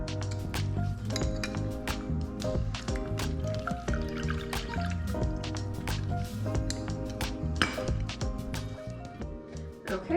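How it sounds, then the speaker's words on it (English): Mashed blackberries are spooned and measured into a cooking pot for low-sugar jam, with wet squishing plops and drips alongside light clinks of utensils against the pot, close and repeated over steady background sound. "So I mashed up the blackberries and I'm gonna measure it out now into the pot that we're gonna boil"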